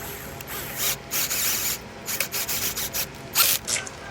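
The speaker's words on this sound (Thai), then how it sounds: "สายบวกเราก็ขันเข้าฮีทซิงเลยนะครับ" A wrench tightens the positive cable bolt onto the heatsink of a 6000-watt 48-volt inverter, giving quiet, close, repeated ratcheting clicks and metallic scraping in short bursts.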